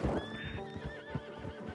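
A horse in Red Dead Online whinnies up close with a rising, wavering neigh while hooves clop softly and irregularly beneath it.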